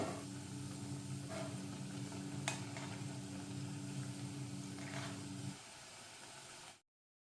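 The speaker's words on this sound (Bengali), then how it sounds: "লো টু মিডিয়াম ফ্লেমে রেখে আস্তে আস্তে ব্রাউন করে ভেজে নেব।" Kolkata-style vegetable chops frying in oil on a low-to-medium flame, a faint continuous bubbling sizzle with a low hum under it and a few small pops, which drops lower near the end and then cuts off.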